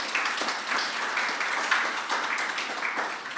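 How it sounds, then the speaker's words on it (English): Audience at a medical summit applauding, dense steady clapping from many hands throughout, moderately loud with no talk over it. "give yourselves a big round of applause"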